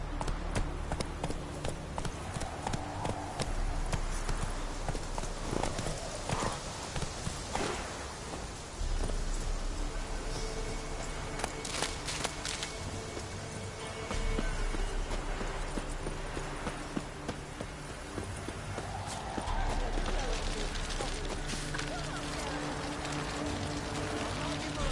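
Roach the horse galloping in The Witcher 3, a steady clip-clop of hooves under rain-like hiss and busy game ambience, with brief talk over it.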